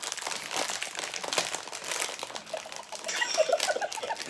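Candy packaging from France being opened by hand, close, continuous crinkling and rustling of plastic wrap, fairly quiet, with no talking.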